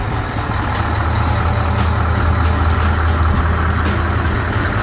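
A Scania R560 V8 truck, a hay-transport rig with trailer in good overall condition, runs with a loud, steady low diesel rumble close by, continuous and unbroken throughout.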